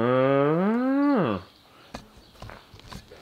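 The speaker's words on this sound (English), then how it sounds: "Hello cows." A cow gives one long, loud moo close at hand that rises and then drops away, followed by quiet shuffling and a few light knocks.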